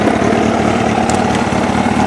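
A Kawasaki ZX779RR motorcycle engine runs loud and close after starting up. Its rumble is steady and throbbing, with no voices over it.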